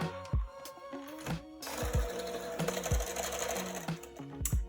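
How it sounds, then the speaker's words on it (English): An electric whisk whirs steadily while mixing sugar and vegetable oil for pumpkin chocolate chip muffin batter, with a continuous motor hum and irregular knocks of the beaters against the bowl. "I'm just gonna switch over to my electric whisk"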